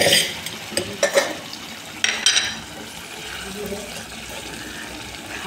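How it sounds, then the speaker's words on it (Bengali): Dal is poured into spices frying in a pan, with bursts of sizzling and spoon or utensil clatter early on, then a quieter steady fry with faint background noise. "দেখুন এবার আমি ডালটা ঢেলে দেবো।"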